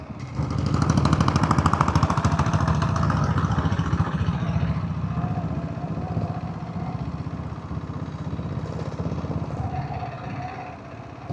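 A Royal Enfield Diesel Bullet motorcycle descending a hill road in the Jawadhu Hills, its diesel engine thumping in a loud, rapid, even knock close by, easing slightly in level as the ride continues.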